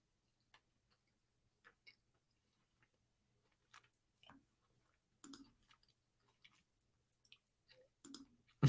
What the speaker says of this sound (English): So can you hear me chewing right now?